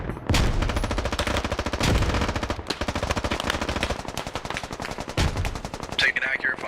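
Sustained automatic gunfire in the military shooter game Squad, dense rapid bursts with overlapping rifle and machine-gun fire, loud and close, running nearly the whole time with brief gaps.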